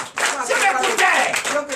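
Church congregation at a night deliverance and prophecy service claps in a quick, dense burst, close and lively, with a voice speaking over the clapping.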